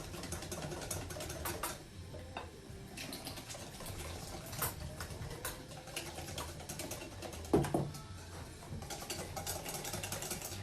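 Donut batter is whisked by hand in a bowl, giving a quiet, fairly continuous run of scraping and clicking strokes with scattered sharper taps, close by and with no talking.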